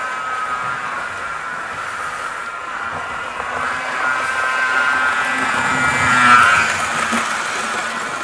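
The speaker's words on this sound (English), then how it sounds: "The only noisy thing about her is the fan on top of the power car," Model train power car runs with a noisy roof fan, giving a steady whirring hiss and hum that swells slightly near the end, continuous and fairly close.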